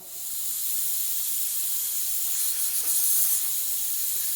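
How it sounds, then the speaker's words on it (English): Steady, bright hissing of compressed air escaping from a port during an air test, continuous and fairly close, with a slight surge partway through. "You can hear air coming out the other port."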